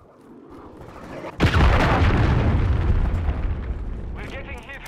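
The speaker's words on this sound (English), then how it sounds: "Hostiles launched a cruise missile." A cruise missile blast in Call of Duty Modern Warfare II hits with a sudden loud boom after a quieter lead-in, then a long roaring rumble of debris and fire that slowly fades, with faint voices underneath.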